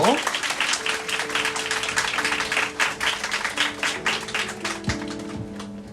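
Audience clapping at a church youth prayer gathering as a speaker comes forward, close individual claps rapid and distinct, with tones of music or a keyboard sustaining underneath.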